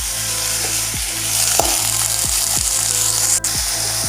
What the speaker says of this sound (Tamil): நல்லா இதை வதக்கி வச்சுக்கலாம்.